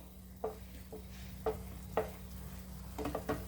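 Tomatoes with ground spice powder, salt and turmeric sauté over a high flame for thippili rasam, giving a faint sizzle. A few soft, separate spoon scrapes sound against the pan over a low background hum.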